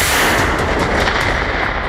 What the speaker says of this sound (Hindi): वर्ल्ड वॉर वाला धमाका